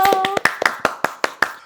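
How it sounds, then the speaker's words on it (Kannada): A small group claps quickly at a lively chat show, about a dozen crisp, close claps in an uneven burst, with a faint voice tone at the start. "ಚಪ್ಪಾಳೆ"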